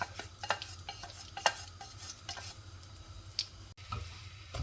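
Flour roasting in ghee over a medium flame for flaxseed pinni, soft continuous sizzle under intermittent scraping and clicking stirs of a spoon against the pan, fairly quiet and close.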